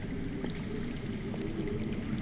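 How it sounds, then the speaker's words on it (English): Water running somewhere underground in a Game of Thrones adventure game: a steady, muffled trickling and gurgling wash, moderately loud and continuous, with no voices over it. "I hear water. From underground?"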